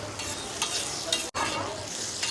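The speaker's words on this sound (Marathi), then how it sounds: "आपल्या बेडगी मिरची बेडगी मिरची तेलामध्ये थोडं परतून घ्यायचं" Byadgi chilli paste sizzles loudly in hot oil for a paneer cheese pulao, a dense steady frying hiss with a few spoon scrapes and one sudden brief cut-out partway through.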